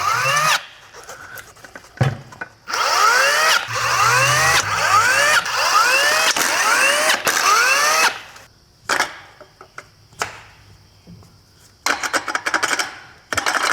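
A power tool drives the clutch bolts on a car during a clutch job, loud close bursts of ratcheting whir in a rhythmic series, then shorter separated bursts with pauses between.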